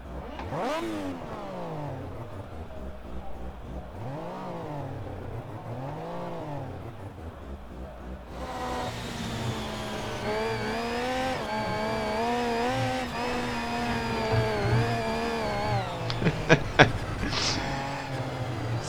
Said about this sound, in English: This car actually sounds really nice.